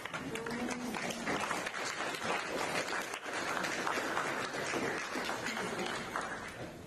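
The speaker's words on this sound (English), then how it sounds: "Round of applause." Steady applause from a sizable crowd at an aquatics awards ceremony, a dense wash of clapping that continues evenly throughout, with faint voices mixed in.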